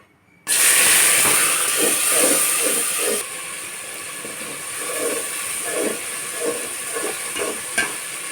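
A ground spice paste of garlic, onion, ginger and green chilli with dried chilli, salt and turmeric hits a hot pan with a sudden loud sizzle that settles into steady frying hiss.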